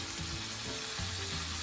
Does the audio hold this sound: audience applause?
no